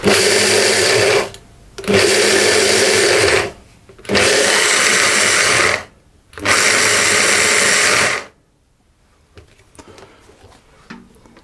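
An immersion blender fitted with its mini chopper bowl whirs through a digestive biscuit mixture in three loud, steady bursts separated by short pauses, then falls silent apart from faint handling clicks.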